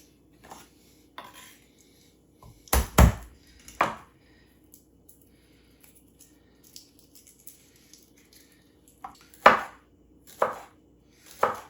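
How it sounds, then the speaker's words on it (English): Knife chopping peeled garlic cloves on a board, scattered sharp knocks in small clusters with quiet gaps between, close and clear, no voices. "next we're gonna do our garlic. And I'm just gonna peel these and then give them a mince"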